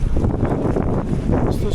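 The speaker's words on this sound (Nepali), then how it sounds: "एकदमै हावा छ" Strong wind buffets the microphone at the Poon Hill viewpoint above Ghorepani, 3,210 metres up, a loud, gusty low rumble that continues throughout while someone talks.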